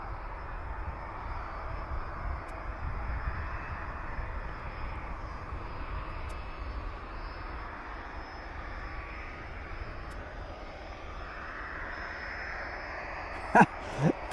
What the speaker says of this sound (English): And we've got another aircraft coming in.